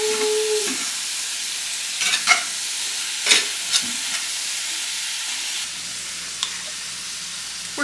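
Food frying in bacon grease in a pan sizzles steadily while a utensil stirs it, with a handful of scraping knocks against the pan and a soft hiss that thins out toward the end.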